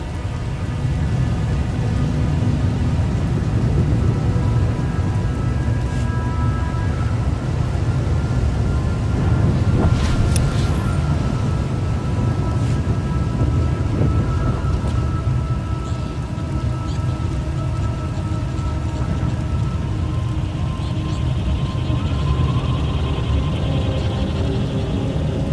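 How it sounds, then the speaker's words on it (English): Steady heavy rain and a thunderstorm with lightning in the video game KOTET, with dense rain noise throughout, rolling thunder underneath and a sharp lightning crack near the middle. "The lightning strikes can be deadly out here."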